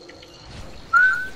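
Short whistle from a person, a single bright rising tone that comes in near the end over faint game sounds in the background.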